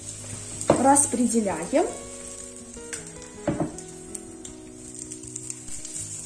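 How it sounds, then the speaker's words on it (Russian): Zucchini pancake batter spooned into a hot frying pan sizzles and crackles steadily, with a short spoken word and a few utensil scrapes and taps over the frying. "мы приготовили и тут же вот выкладываем на сковороду"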